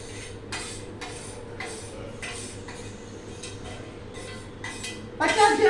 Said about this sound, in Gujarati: આ છે ને ગુંદર બધું આમાં નાખી દઈશ